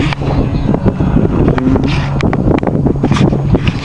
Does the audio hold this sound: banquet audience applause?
no